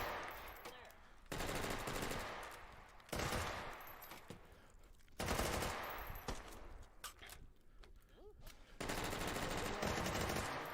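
Machine-gun fire crackles in a tense competitive video game final, with several long sustained bursts separated by short pauses, loud and close, while commentators talk over the action.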